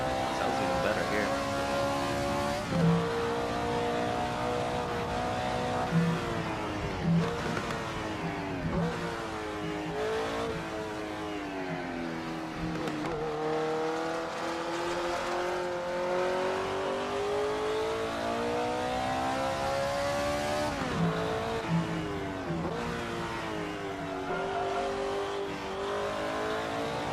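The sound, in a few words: car engine revving on track in Assetto Corsa video game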